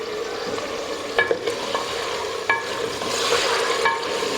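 Ginger, garlic and green chili paste fries with mutton in a pan for palak gosht, a steady soft sizzle broken by occasional scraping stirs and clinks, with no talk.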